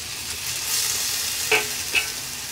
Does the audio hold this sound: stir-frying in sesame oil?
yes